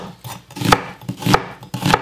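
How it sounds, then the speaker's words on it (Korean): A knife slices vegetables into thick pieces for young radish kimchi: three firm, evenly spaced chops against a cutting board, loud and close, with no talking. "이렇게 해서 조금 약간 굵다하게 슬라이스로 썰어줍니다"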